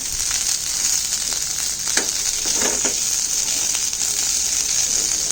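Vegetables with corn and garlic stir-frying in extra virgin olive oil, a steady, close, bright sizzle with a few soft stirring scrapes and crackles throughout, no talking.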